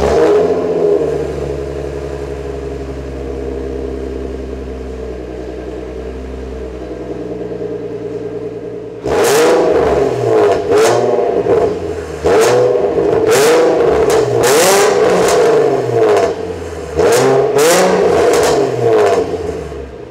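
A 2008 Nissan 350Z NISMO with a naturally aspirated 3.5-liter V6 and a Nismo tuned exhaust idles steadily, then barks through a series of sharp, loud revs close to the microphone, with no one talking.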